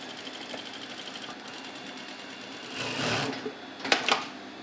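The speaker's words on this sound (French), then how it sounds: "ça m'a l'air de coudre parfaitement" An old sewing machine stitching an old pair of trousers, running with a fast, steady mechanical whir and rattle up close, swelling louder toward the end with a few sharper clacks.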